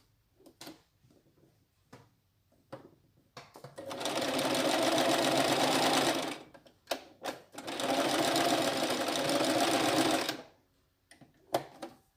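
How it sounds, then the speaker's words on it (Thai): A sewing machine stitches a washable fabric face mask along a fold in two loud, steady runs of about two to three seconds each, separated by brief clicks and fabric handling. "ก็จะมาเย็บตรงรอยพับ เมื่อกี้ตรงนี้นิดหน่อย แล้วก็ตรงนี้นิดหน่อยตรงกลางพอดีที่เราพับไว้"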